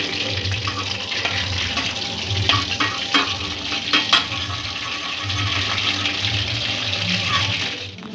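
Rohu fish pieces frying in oil in a pan over a medium gas flame, a loud continuous sizzle and crackle with occasional scrapes of a spatula.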